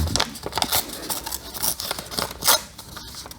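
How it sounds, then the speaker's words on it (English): A sheet of paper torn by hand for a freehand airbrush shield, a run of rough crinkly rips and rustles close up, with a louder tear near the end. "I just tear a piece of paper, depending on the effect that I'm looking for."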